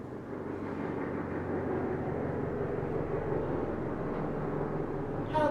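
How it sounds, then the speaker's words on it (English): A helicopter flies past outdoors, a steady low rumbling drone with fluttering rotor texture that holds at an even, moderately loud level throughout and swells slightly at the end. "Helicopter flying by."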